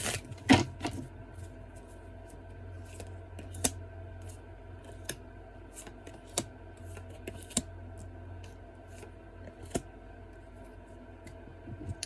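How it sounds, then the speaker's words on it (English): Tarot cards are shuffled by hand in a quiet room, soft papery riffles and sharp little taps recurring irregularly over a steady low background hum, close and fairly faint. "So we're going to go ahead and just shuffle the cards"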